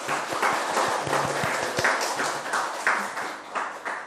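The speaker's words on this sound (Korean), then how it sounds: "다시 한번 큰 박수 부탁드리겠습니다" Applause at a Ulsan city council education committee meeting, a brief patter of claps from a small group of members and officials, uneven and moderately close, fading out within a few seconds.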